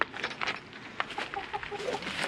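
Backyard chickens cluck near their coop, which is built from recycled materials and old pallets. Several short, close clucks and soft calls repeat irregularly.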